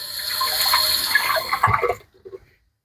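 Water splashes and gushes while a wet/dry vacuum's dirty water tank is rinsed out, close and steady for about two seconds, then cuts off into a few faint drips and sloshes before silence.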